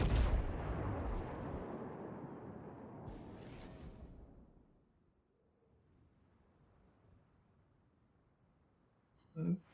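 A naval gun salvo in World of Warships, fired from the battleship Arizona: a loud, booming artillery roar that rumbles and fades over about four seconds, then near-quiet, with a short sharp burst at the very end.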